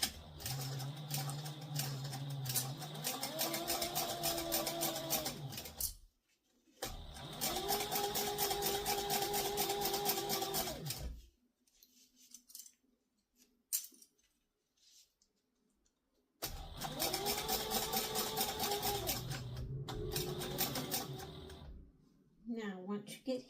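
A sewing machine back-stitches a seam on a satchel near a zipper, running in three steady motorized bursts of a few seconds each with brief pauses between, while a voice talks over it.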